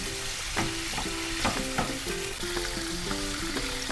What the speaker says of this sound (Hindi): करीब आधा मिनट हम पनीर को भूनेंगे